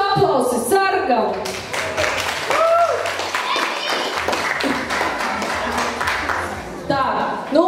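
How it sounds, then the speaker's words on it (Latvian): Wedding guests applaud at a Latvian wedding celebration, scattered clapping mixed with loud voices, cheers and chatter that continue over the whole stretch. "Jūsu aplausi sargam!"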